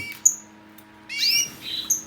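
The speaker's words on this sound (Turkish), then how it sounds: "Çok da güzel ötüyor biliyor musun? Bak ötüyor." Pet bird, a young male, sings indoors with a few sharp chirps and a brief trilling phrase, close and clear over a quiet background.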